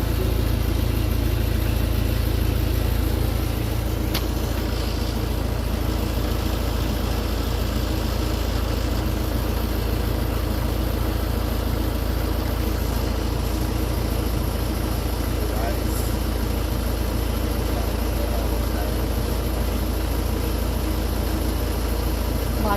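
A car engine runs steadily with a low, constant rumble close by, while people talk over it throughout.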